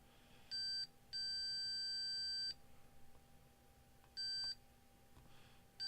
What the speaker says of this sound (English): One beep does not stay on.